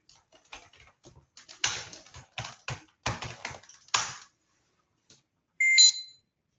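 Serial number typed on a computer keyboard: a quick run of clicky keystrokes in irregular bursts, close and fairly soft, followed by a short electronic beep after a pause.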